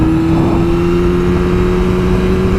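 A motorcycle ridden for ten years pulls hard under power on a country road, its engine a loud, steady drone with a sustained low tone running throughout without a break.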